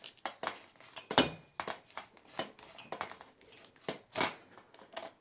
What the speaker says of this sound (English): And it clicks just like that, and then you can use your entire wand.